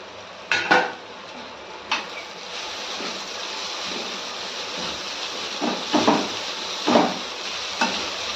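Roasted chana dal goes into a pan of Maharashtrian kande pohe with a few clanking spoon-on-metal knocks and scraping stirs over a low, steady cooking hiss.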